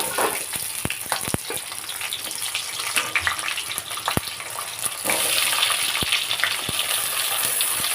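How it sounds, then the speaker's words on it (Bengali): Eggplant slices fry in hot oil, making a loud, continuous sizzle that swells louder partway through, broken by scattered pops and spatula clicks. "এবারে আমি বেগুনগুলো ভেজে নেব।"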